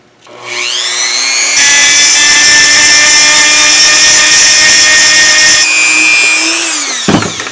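A rotary tool grinds fused dichroic glass made from clear and black layers, one steady, loud, high whine that spins up, holds for about six seconds, then winds down and stops, with no voices.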